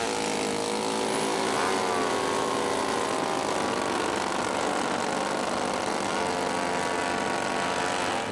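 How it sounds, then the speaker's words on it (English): Model racing airplane engines run at a constant high-pitched buzz, loud and continuous throughout with no break, like several small glow engines screaming at once near an airfield. "And start your engine."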